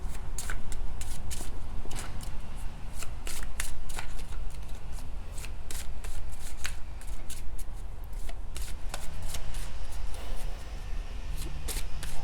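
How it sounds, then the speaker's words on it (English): Continuous close-up riffling and snapping of a deck of cards being shuffled over and over, crisp and steady, with no voices. "I'm gonna channel some messages before I shuffle the cards"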